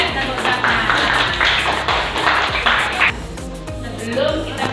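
A group claps hands during a classroom learning session, loud rhythmic claps layered with background chatter and voices.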